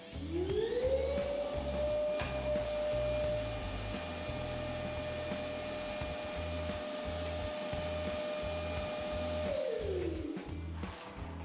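A battery-powered industrial vacuum cleaner roars steadily, whining up to full pitch, sucking up dry debris through an extended pipe for several seconds, then winding down as it shuts off.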